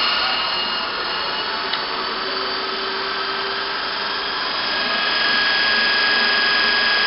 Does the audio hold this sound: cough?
no